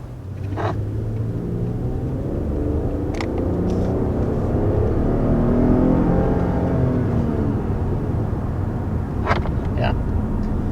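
A 2020 Lexus ES 350 F-Sport's 3.5-liter V6 hums with a steady, smooth low drone throughout, heard from inside the car, with a few faint clicks and ticks over the continuous engine note.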